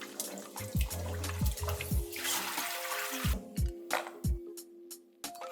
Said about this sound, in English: we will want to thoroughly wash and rinse them